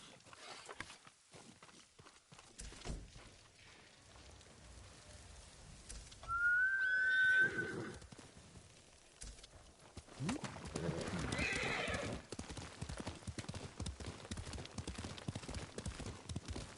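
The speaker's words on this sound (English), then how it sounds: "I don't know if I heard horse hooves." In the video game Ghost of Tsushima, a horse gives a sharp whinny, and its hooves clip-clop and pound across the ground under low ambient noise, with a voice speaking faintly.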